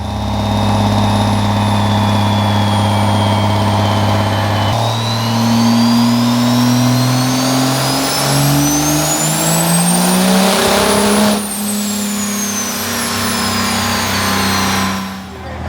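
Roughly 2,000-horsepower truck engine on a dyno calibration run, revving loud and close with its pitch climbing steadily, then dropping back sharply and holding at a lower, settled drone.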